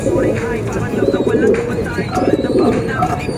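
A racing pigeon coos at its loft on arrival from a race, with a steady run of close, loud, throaty coos, mixed with bird sounds and under someone speaking.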